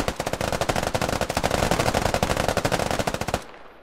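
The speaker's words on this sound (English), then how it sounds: "This is good gun talking here. Don't blow everything. But listen to them." Rapid, sustained machine gun bursts from a squad laying down suppressing fire in a video game, loud and close, hammering steadily for over three seconds before cutting off abruptly.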